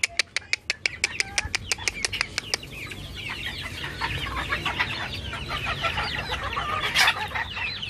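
A coop of chickens clucks and murmurs while pecking at chopped purslane. A quick run of sharp, regular taps opens the scene before the busy, close clucking chatter fills the rest, with a brief louder squawk near the end.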